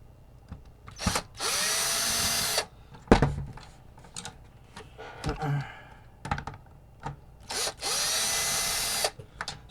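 A screwdriver works a longer silver screw out of a Nintendo NES console, giving several close bursts of whirring and grinding separated by sharp clicks, taps and clatter of plastic.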